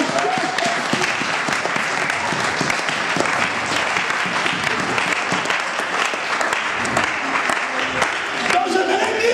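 Church congregation at a thanksgiving service applauding and cheering to acclaim Jesus, dense continuous clapping from a large crowd filling the whole stretch, with voices mixed in.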